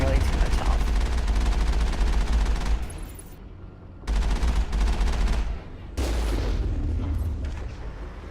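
Mako tank primary cannon fire in Mass Effect, heard as loud, dense bursts of booming gunfire and explosions in three clusters separated by brief quieter gaps, with game sound over the top.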